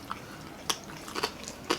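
Crispy oven-roasted spicy lechon belly skin being bitten, with a few sharp crunchy bites spaced out over a brief, close moment and no talking.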